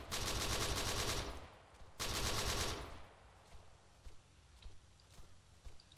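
Rapid automatic gunfire in the Arma 3 video game, two loud sustained bursts of about a second each, followed by quieter scattered clicks and movement sounds.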